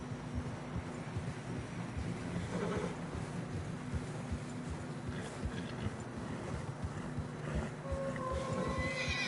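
Horses in Red Dead Redemption 2 neigh and whinny while hooves plod through fresh snow on a narrow mountain trail, with a steady rush of wind throughout and a clear whinny near the end.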